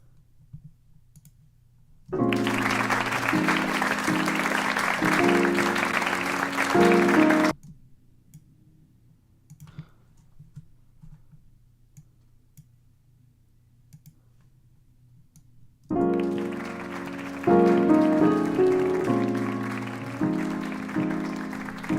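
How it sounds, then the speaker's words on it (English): A light applause sample layered into an electronic beat built in Ableton Live plays in two bursts separated by near-silence, crisp clapping texture sitting over pitched chord tones and rhythmic clicks, close and clean with no voices. "Some light applause, maybe."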